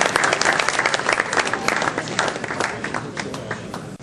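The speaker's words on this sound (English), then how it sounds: "Round of applause, please." Steady applause from a sizable crowd at a youth sports awards ceremony, dense and continuous, holding at full strength before cutting off abruptly at the end.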